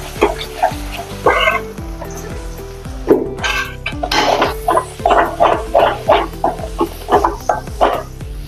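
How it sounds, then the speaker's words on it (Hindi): Ginger garlic paste fries in a pan over low gas with a loud, close sizzle. It is broken by rhythmic stirring pulses and scraping, with a faint tonal hum underneath. "हमने भी अदरक लहसुन को 1 मिनट भून लिया है।"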